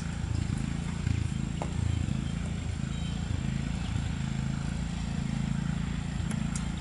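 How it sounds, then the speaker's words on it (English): A neighbor's lawn mower cuts grass outside, a steady low engine drone running continuously at moderate distance throughout, with no talk over it. "My neighbor's cutting his grass."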